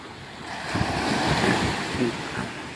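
Sea waves rumble and wash in at Chaitya Bhoomi, Dadar, Mumbai, a swell rising and easing off, with wind buffeting the microphone throughout.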